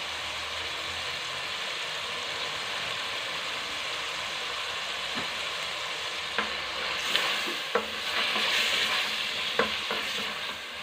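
Sweet peppers sautéing in a pan with paprika give a continuous, even sizzle of hot oil, close and fairly loud. A few sharp utensil taps and scrapes break in near the end, with no one speaking.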